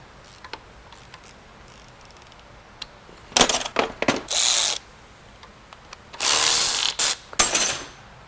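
Ratchet with a 14 mm deep-well socket loosening a starter bolt on a Hyundai Santa Fe: rapid clicking pawl bursts in several runs, close and fairly loud, after a quiet stretch with faint ticks.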